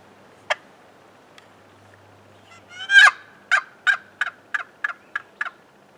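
A wooden box call rasps out a sharp yelp, then a series of evenly spaced raspy clucks mimicking a turkey hen, clear and alone in quiet surroundings.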